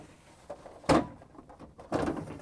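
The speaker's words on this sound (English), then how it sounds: "pull out the ice bucket." Ice bucket pulled out of a GE freezer during a repair, giving two distinct close plastic thumps and a rattling slide, with near silence around them.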